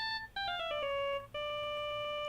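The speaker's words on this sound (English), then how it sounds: "I was just having a nightmare with my Dracula ringtone" A Dracula-themed ringtone melody plays in the Phoenix Wright: Justice for All game, two rising-and-falling runs of bright chiming notes, loud and clear with no voices.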